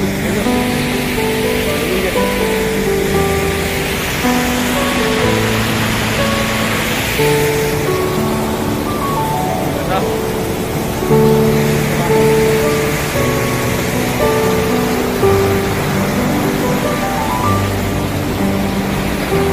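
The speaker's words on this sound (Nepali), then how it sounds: "यो त कहाँबाट आएको पानी" Water rushes steadily near a bridge outdoors, a loud continuous roar of broadband noise with wind mixed in, while background music or tones play over it throughout.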